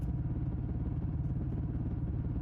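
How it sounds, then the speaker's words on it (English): A motorcycle engine on an empty road at night, a low, steady rumbling drone with a fast, even pulse, moderately quiet and unbroken with no voices. "The engine sound becomes familiar comfort."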